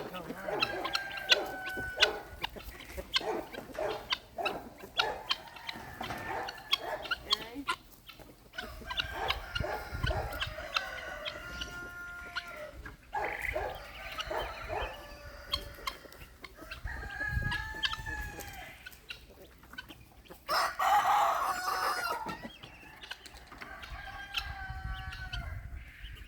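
Homestead chickens cluck and squawk close by in irregular bursts, with a rooster crowing loudly partway through, over a quiet outdoor background.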